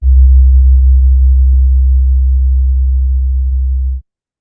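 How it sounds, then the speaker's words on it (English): A low, steady electronic tone made by converting image data into sound pulses with a slow beating wobble, holding alone at an even loudness for about four seconds before cutting off abruptly. "you can hear kind of that beating sound"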